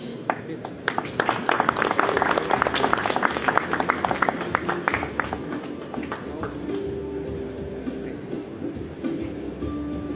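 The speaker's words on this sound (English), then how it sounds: "A big round of applause, everyone." Audience claps at a jewellery launch event, the individual claps crisp and rapid and building to a dense burst before tapering off, with voices and a faint tone continuing underneath as the clapping fades.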